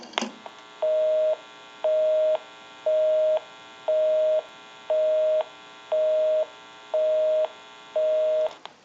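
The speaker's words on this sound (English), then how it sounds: "Give you some dial tone." A steady dial tone from a single-slot rotary dial payphone pulses on and off in eight even bursts, each about half a second long, clear and close with no talking.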